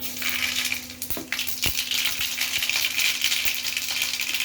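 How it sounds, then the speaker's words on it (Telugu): Tempering spices frying in hot oil for an uddi beda chutney, a steady close crackling sizzle with a few sharp metallic clinks from a utensil. "ఇప్పుడైతే పోపు పెట్టుకున్నాము"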